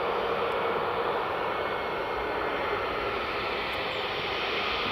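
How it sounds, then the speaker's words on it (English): Steady broadband roar of an EasyJet Airbus A321neo at Gatwick, a continuous even wash of engine noise with no talk over it. "our EasyJet A321 Neo"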